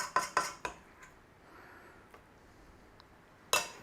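A bladed utensil chops through a meat mixture in a bowl for an olive loaf, giving a few sharp clinks and knocks at the start, a quieter stretch, then one more clack at the end.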